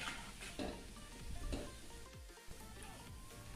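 Mango fritters (phuluri) of ripe mango batter fry in oil over a low gas flame, giving a steady close sizzle with a few soft stirring scrapes and clinks of a spoon.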